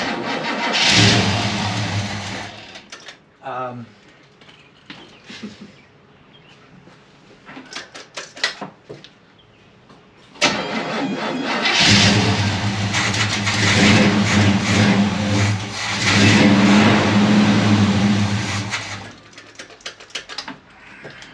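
A swapped, formerly stuck car engine fitted with a new exhaust starts, then revs and runs in loud bursts. Quieter gaps separate the bursts, and a steady roaring stretch comes near the end, close up, with no talking.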